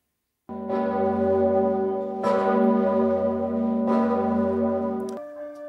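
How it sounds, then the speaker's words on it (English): Church bells in France ring out in the evening, with three resonant, slowly decaying strikes followed by a fourth, clear and fairly close with no talk over them. "Across France this evening at 7:30, churches rang their bells."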